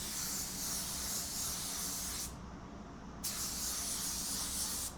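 Paint spray gun laying slow-hardener clear coat on a car fender, fitted with a control cap: a close, steady broadband hiss that cuts out briefly for about a second, then resumes.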